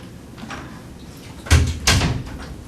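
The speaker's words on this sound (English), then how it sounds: "You want me to get the door?" A door at a school board meeting is handled twice in quick succession, each time a short, fairly loud bump or swing against a quiet room with faint background murmur.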